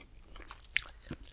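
A soft, close bite into a jelly-filled gummy candy, followed by brief squishy chewing, heard faintly and intimately with no talking.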